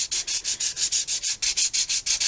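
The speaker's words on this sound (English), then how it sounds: "we're going to sand all these edges down until we're happy with them" Steady back-and-forth hand sanding of the edges of a rocket fin, about a dozen even, rhythmic strokes rasping close and clear with no talk.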